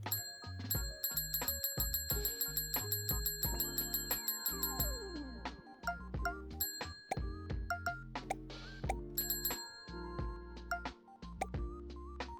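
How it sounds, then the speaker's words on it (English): Bright bell dings ring out repeatedly in a rhythmic pattern over upbeat, plucky game music in the rhythm game Bits & Bops, with no talking. "I just want to ring the bell."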